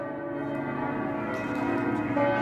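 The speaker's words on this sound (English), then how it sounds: "The bells are getting louder." Church bells ringing in Lübeck, sustained overlapping tolls heard from a distance outdoors, steadily swelling in loudness.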